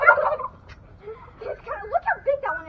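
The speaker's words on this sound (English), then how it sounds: "That is a big old turkey right there." A wild turkey gobbles loudly, a rapid warbling call followed by several shorter throaty gobbles, close by in a quiet outdoor setting at Bull Shoals–White River State Park.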